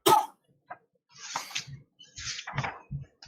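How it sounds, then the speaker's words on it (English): Several short, sharp coughs and throat-clearing bursts come from a person, scattered unevenly with brief pauses between them, close to the microphone and fairly loud. "Can I just apologize for my coughing, by the way?"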